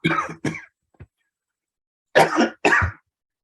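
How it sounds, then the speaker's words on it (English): A man coughs repeatedly in a quick, close series of dry bursts: two sharp coughs, a faint throat sound, then two more after a short pause. "Quick coughing."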